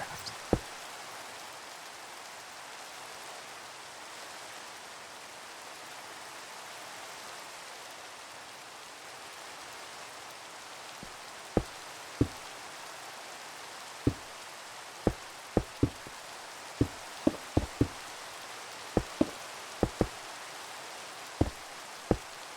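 Rain falls steadily in the Minecraft video game at night, a soft, even hiss of downpour with sharp isolated drip-like clicks scattered through the later part, no voices.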